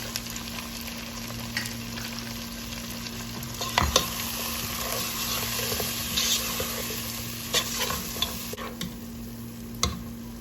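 Meat with tomato, turmeric, salt and ground garam masala fries in a pan, a steady close sizzle with occasional scraping stirs and clicks of a utensil, no voices.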